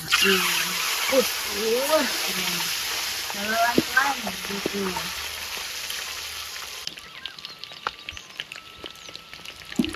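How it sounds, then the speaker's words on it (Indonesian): Eggs fry in a pan for a home-cooked sambal with eggplant, a bright continuous sizzle close by, with talking and stirring clatter over it before the sizzle thins into sparse crackles near the end. "Sekarang telurnya digoreng dulu"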